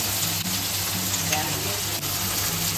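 Onions and garlic frying in a pan as tomato sauce goes in for chilli mushroom, a dense, loud, steady sizzle with stirring scrapes and no talk.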